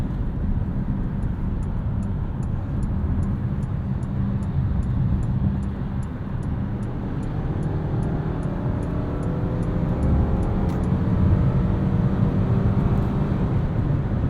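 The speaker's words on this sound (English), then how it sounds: "you're seeing a lot of high revs with just a little bit of acceleration pretty often in this car" A 2022 Mitsubishi Outlander SEL with the 2.5 engine and CVT drones at high revs while accelerating, a steady loud engine hum with road and cabin noise, heard from inside with no talk.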